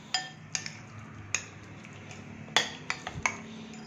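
Mayonnaise and pepper filling mixed in a bowl, a spoon clinking sharply against the bowl in irregular taps and scrapes, close and otherwise quiet.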